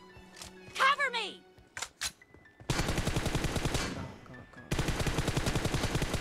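Gunfire in the mobile game Battlegrounds Mobile India during a team deathmatch: two long bursts of rapid automatic fire, loud and close, after a stretch of voices talking.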